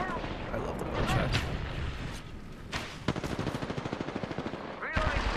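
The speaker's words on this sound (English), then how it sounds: "Listen up, I'm getting shot at." Gunfire in Apex Legends: scattered single shots and bursts, then a fast, regular automatic volley near the end, loud and close, with a voice talking over parts of it.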